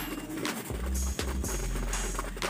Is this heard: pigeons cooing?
yes